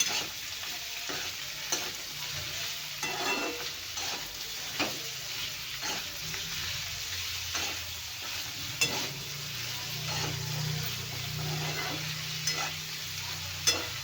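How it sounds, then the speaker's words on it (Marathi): Carrot and beetroot frying in oil in a pan for a green chili chutney, a steady close sizzle broken by scrapes of a spoon stirring throughout. "आता याला छानपैकी भाजून घ्यायचं आहे व्यवस्थित तेलामध्ये जोपर्यंत कॅरेट आणि बीटरूट नरम होत नाही तोपर्यंत छान भाजून घेऊया"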